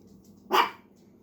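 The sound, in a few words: dog barking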